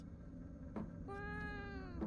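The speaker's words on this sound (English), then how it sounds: "Oh, it's a cat." A cat meows in the horror video game Fears to Fathom, one drawn-out call following a brief sharper sound, fairly faint against a steady low hum.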